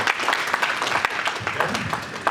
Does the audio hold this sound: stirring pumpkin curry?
no